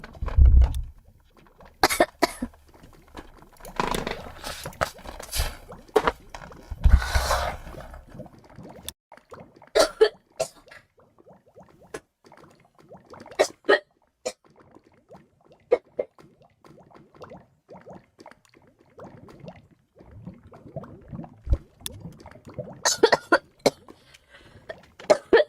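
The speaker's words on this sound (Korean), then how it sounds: "기침이 많이 심하시네." A girl coughs in scattered, irregular fits, some harsh and wet, with quiet gaps and faint throat sounds between them.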